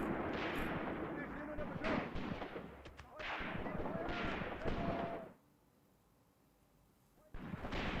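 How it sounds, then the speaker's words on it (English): Machine gun fire in the war game Graviteam Tactics comes in several dense, loud bursts, then falls to a quiet lull before another burst starts. "That looked like a bit of a machine gun burst there."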